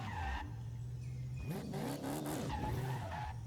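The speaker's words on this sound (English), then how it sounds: "I'm trying to get it to do a burnout, but I can't." A car in the racing game Forza Horizon 5 revs hard on a manual clutch while its tires screech through a burnout attempt. The squeal rises and falls in repeated swoops over a constant droning engine, with no talking.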